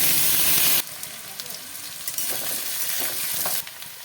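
Onion, radish and potato drop into hot mustard oil seasoned with five-spice, giving a loud burst of sizzling that settles into a steadier fry with stirring, then swells again at the end.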